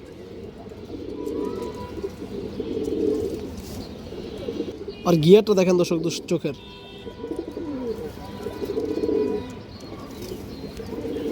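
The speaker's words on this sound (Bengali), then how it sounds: "খাঁচায় ছাড়ার সাথে সাথে ডাকা শুরু করছে" A pigeon coos from inside a cage, one clear rolling call midway, while someone talks steadily over low background noise.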